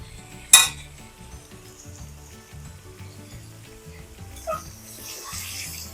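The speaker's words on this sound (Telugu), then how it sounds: "ఇప్పుడు ముక్క చెదరకుండా జాగ్రత్తగా కలిపెట్టుకోవాలండి" Stuffed brinjal curry with onion masala and curry leaves stirred gently in a pan over low heat, one sharp metallic clack followed by a soft continuous sizzle and occasional light scraping, close and quiet under low background hum.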